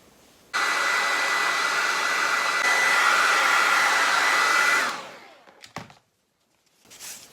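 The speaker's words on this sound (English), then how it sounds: "now I'm going to heat that with my hot blow dryer, and that will cause that line to open up just a little bit." A hot blow dryer heats an EVA foam helmet, roaring as a steady, loud airy whoosh for about four seconds before switching off, followed by a few faint handling knocks.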